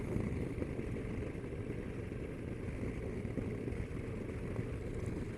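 A CFMOTO 650MT motorcycle rolls smoothly through a village at about 30 mph in 4th gear, its engine a steady, even low drone mixed with wind rush, with no changes in pitch.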